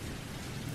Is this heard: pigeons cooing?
no